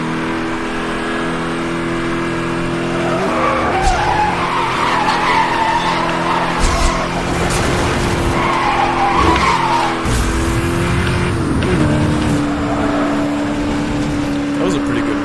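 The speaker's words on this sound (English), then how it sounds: "A little bit of drifting on the NOS." In Need for Speed Hot Pursuit, a car drifts on nitrous with long, loud tire squeals and skidding over a droning, revving engine, continuing throughout while voices talk over it.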